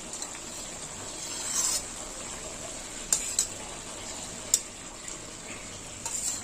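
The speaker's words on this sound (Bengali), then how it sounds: "এবার আমি এই যে টমেটোর রসটা দিয়ে দেবো।" Frying chicken sizzles softly as strained tomato juice is poured in, with a few sharp clinks of a utensil against the pan rising above the steady hiss.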